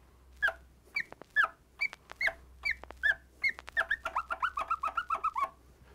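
A DJ performs chirp scratches on a turntable, working the record back and forth against the crossfader to give a series of short, clipped chirping squeaks, spaced at first and then coming faster in a quick run.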